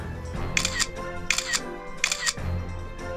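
A phone camera's shutter sounds three times at an even, steady rhythm as photos are snapped of kids at Christmas, each click crisp and close over a low indoor background.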